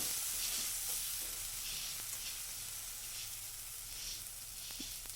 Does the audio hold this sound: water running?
no